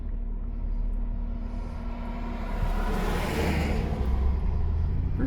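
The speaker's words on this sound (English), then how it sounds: "Got a truck coming here." A truck on a mountain road in the pines near Pinos Altos, New Mexico, rumbling past a moving vehicle with a steady low engine drone that swells slightly as it nears, over constant road noise.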